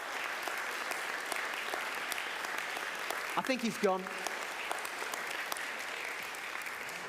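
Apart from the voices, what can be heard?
audience applause for comedian Andy Kind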